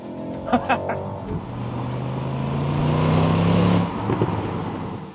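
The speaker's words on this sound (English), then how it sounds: "But if you put it in sport mode, that changes to a big-chested rumble." A deep BMW X6 M60i V8 engine rumble in sport mode builds and swells close by, with a few brief clicks and low voices at the start.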